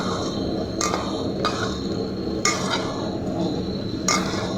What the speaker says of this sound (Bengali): মাছ ভর্তা মাখাচ্ছি।